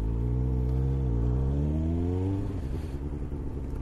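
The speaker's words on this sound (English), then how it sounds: "I thought I'd take the bike out quickly for a quick spin" A rebuilt Kawasaki Ninja ZX9R motorcycle engine under way, loud and close, with rising harmonic pitch as it accelerates, then a drop and settle near the end; no talking.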